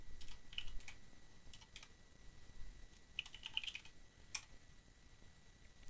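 Soft, scattered keystrokes on a computer keyboard as a terminal command is entered, a few faint clicks spread irregularly over a quiet background.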